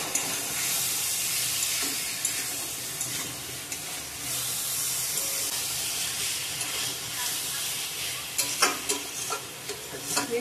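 Fried potatoes and soy chunks being sautéed and stirred in a pan, a steady dense sizzle with scraping stir strokes throughout, close and continuous.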